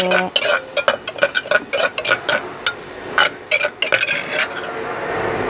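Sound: stir-frying cucumber with pork belly in a pan

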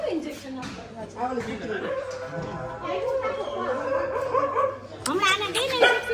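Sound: dog barking

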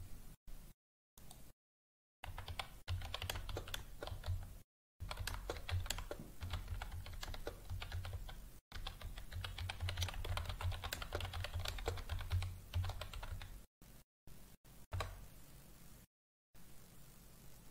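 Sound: typing a prompt on a computer keyboard

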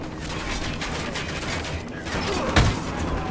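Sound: Apache helicopter gunfire in Ghost Recon Wildlands video game

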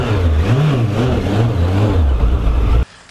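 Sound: Suzuki GSF1200S Bandit motorcycle engine revving

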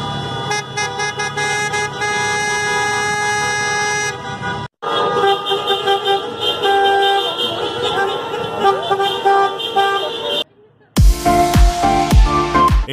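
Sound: drivers honking car horns

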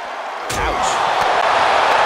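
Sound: sidewalk slam in a wrestling match

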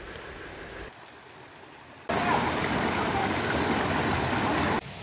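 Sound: waterfall and rushing stream in Nepal

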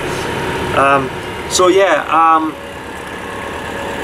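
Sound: boat engine being throttled down, Norfolk Broads

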